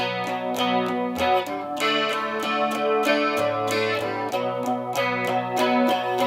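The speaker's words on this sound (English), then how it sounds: "you know, he kicks on the distortion." Electric guitar plays distorted rock power chords in a strummed, rhythmic pattern for a song, loud and sustained, with no voices.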